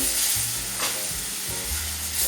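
A spoon stirs sugar into flour halva in a hot pan, making soft sizzling and a few slow, rhythmic scraping strokes, close and steady.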